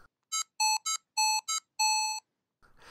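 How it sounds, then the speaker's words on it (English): A 1980s talking watch gives its hourly chime on/off signal, a sequence of five or six short electronic beeps in an uneven rhythm, clear and close, followed by a faint rustle at the end. "I always liked the little sound it made when turning on or off the hourly chime."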